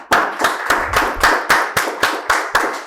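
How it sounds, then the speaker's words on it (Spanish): Audience at an academic lecture series on the founding of Tenochtitlan claps for guest speakers, about ten sharp, evenly spaced claps in a steady rhythm, close and loud, with no talking. "Pues le damos un fuerte aplauso a nuestros invitados."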